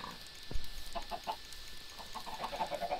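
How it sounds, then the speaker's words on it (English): Chicken clucking in the Block Hunt video game, a soft series of short clucks that quicken into a rapid run toward the end, after a single low thump, fairly quiet. "Come back here, little chicken."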